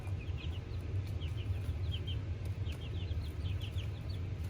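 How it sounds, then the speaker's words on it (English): Small chicken-like chirps and clucks repeat in quick bursts over a steady low hum, fairly faint and close together. "I think these chickens might be thinking about flying out."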